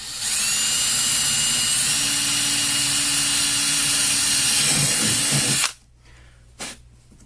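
A power drill with a 7/32 inch bit bores a hole in a Jackson Kayak Cuda 14 hull, whining loudly and steadily for about five seconds before stopping abruptly, followed by a short faint bump.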